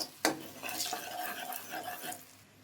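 A spoon stirs chili powder into kadai paneer masala in a pan. One sharp clink of metal on metal is followed by a continuous, fairly quiet scraping and mixing close by.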